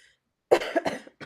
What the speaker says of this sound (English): Sorry, guys, I'm coughing like in your ear.